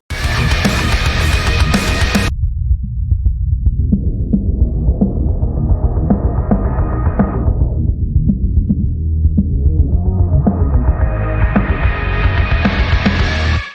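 Music with its upper range filtered away, leaving a bass-heavy, throbbing low end; a filter sweep gradually opens up the higher frequencies again.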